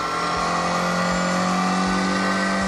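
A twin-cam 1.6-litre Ford engine in a video game revs hard and steadily with a buzzy, high-pitched drone, loud and close, with no voices over it.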